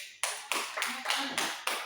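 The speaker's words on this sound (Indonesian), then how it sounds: "Oke, tepuk tangan untuk kalian" Students in a classroom clap in a short, even burst of about six sharp claps spaced roughly a quarter second apart, close and fairly loud, with no talk.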